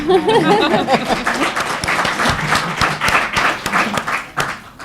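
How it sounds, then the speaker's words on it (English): Audience applause at a school committee candidate forum, steady clapping from the room under and after a speaker's voice, moderately loud and fading toward the end. "I didn't mean to interrupt the applause"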